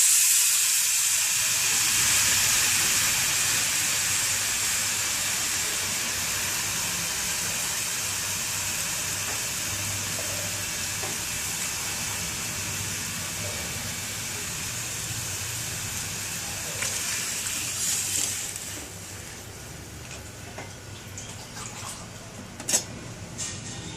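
Water poured into roasted wheat semolina for upma, a soft steady hiss and steamy sizzle that slowly fades, with a few faint clinks near the end.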